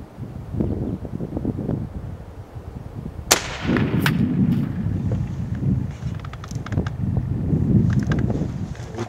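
A rifle fires at bottle targets 200 yards away: one sharp, loud crack stands out over steady wind buffeting the microphone, with fainter, smaller reports around it.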